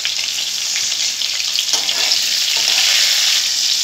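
Bitter gourd and bhola fish frying together in a pan, a dense, bright, continuous sizzle heard up close and alone.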